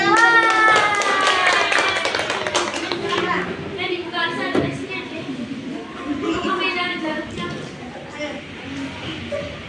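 Children in a classroom clap their hands in a busy, uneven patter while young voices chatter and call out over it, lively and close.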